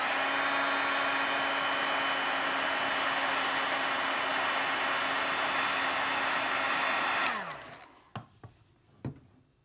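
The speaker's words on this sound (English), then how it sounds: "to my heat gun" A heat gun blows steadily as it melts embossing powder on black-painted wood, a constant close airy whoosh that cuts off near the end, followed by a few light clicks and taps.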